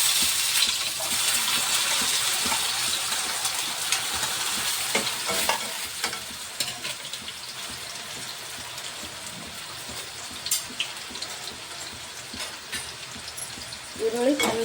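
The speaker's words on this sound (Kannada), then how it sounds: "ಈರುಳ್ಳಿ ಚಂದ ಫ್ರೈ ಮಾಡ್ಬೇಕು ರೀ. ಎಣ್ಣೆಯಾಗ ಚಂದ ಫ್ರೈ ಆಗಿಬೇಕು ರೀ." Onions frying in hot oil in a home kitchen pan, a loud, steady sizzle with scraping stirs throughout that eases slightly toward the end.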